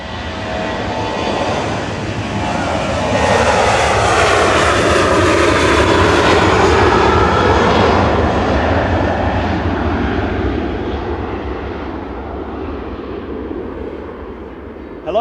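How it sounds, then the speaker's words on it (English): Ryanair jet airliner at Manchester Airport roaring loud and steady for the whole stretch, a broad jet rumble that swells in the middle and eases slightly toward the end, with no talk over it. "Ryanair to Brussels, flight 3222."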